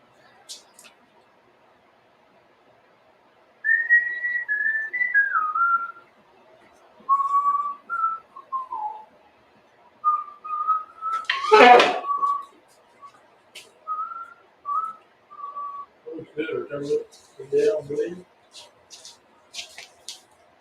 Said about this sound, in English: That's what I was whistling.